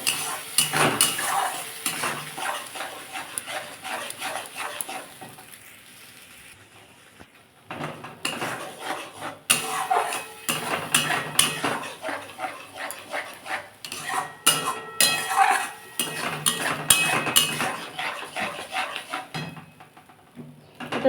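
Chili powder sautéed with okra in a pan for a Bengali-style dish, a spoon scraping and knocking rhythmically against the metal in busy bursts over a soft sizzle, with a short quieter pause partway through.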